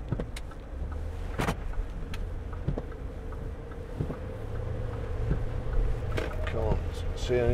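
A 2011 Range Rover 4.4 TDV8 Vogue SE under way, heard from inside the cabin as a low engine drone and road rumble with wind noise and a few clicks, while someone talks over it.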